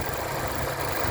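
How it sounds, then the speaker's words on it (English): A 2019 Mazda 3 engine idles smoothly at close range, a steady low hum with even mechanical texture and no voices over it. "with the motor running"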